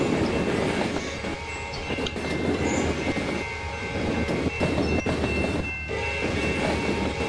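CSX train in Trainz Railroad Simulator 2019 rumbles past with rhythmic clickety-clack of wheels over rail joints and a sustained horn tone, loud and close throughout.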